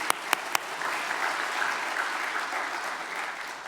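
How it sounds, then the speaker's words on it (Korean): A church congregation at a New Year fasting revival service breaks into applause, with a few loud separate claps at the start followed by a steady, evenly sustained roll of clapping from the whole room. "다시 한 번 더 새날을 주신 하나님께 영광의 박수로 올려드리겠습니다."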